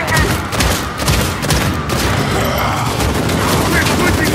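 Rapid gunfire in Uncharted 4 survival mode, dense bursts of shots layered over booming game effects and a player's voice talking throughout.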